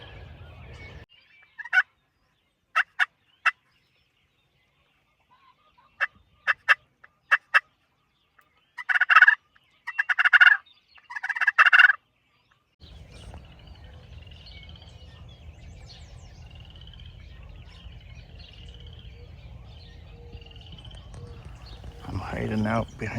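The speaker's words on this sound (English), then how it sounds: "I've got a tom over here just gobbling like crazy" A wild turkey tom gobbles in several bursts in river-bottom swampland in Utah, some short and sharp, then three longer rolling gobbles, followed by steady outdoor background noise.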